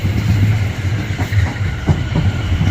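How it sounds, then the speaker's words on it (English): A Southwestern Railway Class 701 electric train rumbles past close by at Clapham Junction, wheels clattering rhythmically over rail joints with a steady mechanical drone. "a Southwestern Railway Class 701 service off to Shepperton"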